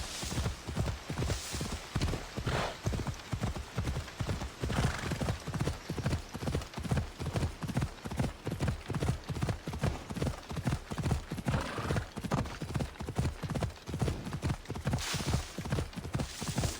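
A horse galloping in the video game Assassin's Creed Odyssey, a steady rhythmic clip-clop of hooves continuing for the whole stretch at close range, with an occasional whinny and faint voices in the background.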